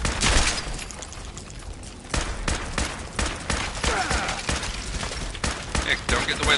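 Rapid bursts of automatic gunfire and sharp single shots in a Fallout 4 firefight, loud and close, coming in uneven volleys with brief gaps, while voices talk over the action.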